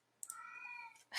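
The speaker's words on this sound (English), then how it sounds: "excuse my cat again" A single drawn-out cat meow, clear and fairly close, followed by a short burst of rustling noise.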